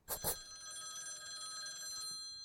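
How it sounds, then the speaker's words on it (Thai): A telephone rings in the video game Night Knock: a bright electronic ring with two quick bursts at the start, then a sustained tone lasting about two seconds before cutting off. "เดี๋ยวรอบนี้ไม่ใช่ เสียงเคาะประตูแต่เป็น โทรศัพท์โทรเข้ามาเลยนะครับ"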